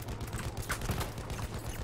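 Gunfire in the video game Battlefield 1 appears as a brief flurry of rapid, muffled shots heard at moderate distance over a dense battle background.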